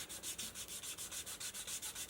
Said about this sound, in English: You do your sanding.